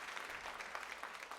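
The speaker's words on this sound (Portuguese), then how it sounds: "Vamos aplaudir Jesus só para acordar?" Faint, distant congregation applause in a church service, a steady wash of many hands clapping with no voices standing out.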